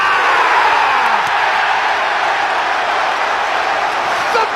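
A roaring football stadium crowd celebrates an Arsenal goal, a dense, loud wall of cheering and whooping that holds steady throughout, with faint clapping buried in the noise.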